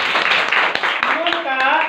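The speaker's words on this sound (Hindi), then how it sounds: "बजाओ ताली" Students in a classroom clap briefly in a quick, uneven burst of claps that blend with voices talking over them.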